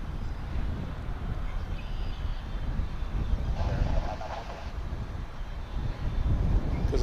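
Aircraft taxiing at DFW airport, heard as a low, steady rumble at a distance under gusty wind noise on the microphone, with a faint higher whine rising briefly in the middle.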